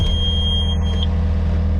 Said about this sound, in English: You can turn your alarm off.